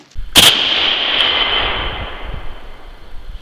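A Marlin 336 lever action rifle in 30-30 fires a single loud shot at steel plates outdoors, a sharp crack followed by a long ringing metallic tail that slowly fades.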